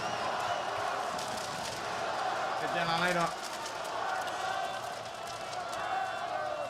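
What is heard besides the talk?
esports arena crowd cheering for Falcons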